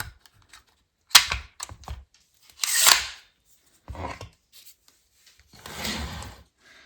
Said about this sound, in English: now I've got a set of 2-inch 18 gauge nails. And so we're gonna go ahead and load these into the magazine.